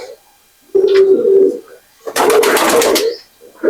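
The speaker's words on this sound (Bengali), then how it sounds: "বন্ধুরা এতক্ষণ যে পায়রাগুলো আপনাদের সাথে শেয়ার করে নিলাম, সেই নরের আড্ডা হচ্ছে এটি।" Pakistani pigeons in a male loft give two long, close, resonant coos, each running for close to a second, separated by a short pause.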